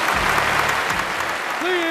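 Audience applause rises to welcome performers onto a television variety show stage, a steady wash of clapping through most of the moment with a brief musical tone entering near the end.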